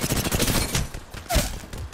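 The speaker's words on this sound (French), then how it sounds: "Par là ça tire aussi." Gunfire in a Big Sentinel ranked match, rapid overlapping shots crackling nearby through the first second, then a louder burst near the end, with a brief tonal game effect mixed in.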